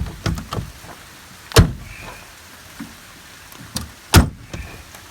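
Door of a 1966 Dodge Charger that won't close properly, struck twice with sharp, loud thumps about two and a half seconds apart, with small knocks and rattles in between.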